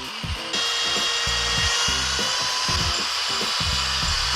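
A power drill working through metal for a homemade motorcycle plate mount on a CBR 600, grinding in loud uneven bursts with a steady high whine behind it, close by.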